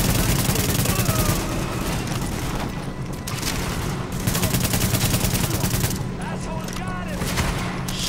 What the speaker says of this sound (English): Shit, that's a shotgun.